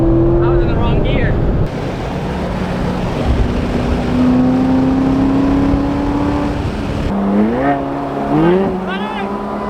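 A Corvette engine roars hard through the gears in a street race, its tone climbing and then dropping with each shift, loud and close amid wind noise, with voices talking over it.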